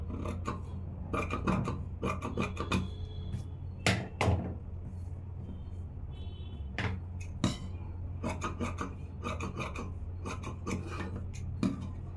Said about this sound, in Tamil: இந்த லைனிங்கை விட அதிகமாக இருக்கிற பீஸு எது தேவையில்லையோ அதெல்லாம் வெட்டிடலாம்